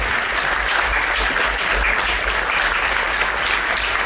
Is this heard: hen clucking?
no